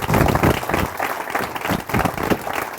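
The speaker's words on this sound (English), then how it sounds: "if everyone could give Mr. Steve Rice a huge round of applause." Studio audience giving a round of applause for a property investor interview guest, dense, loud clapping filling the whole short stretch.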